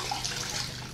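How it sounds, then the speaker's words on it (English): Water is wrung out of a microfiber towel during car detailing, giving a continuous close splashing and trickling of water running off the cloth for about a second. "All right, we wring this water out."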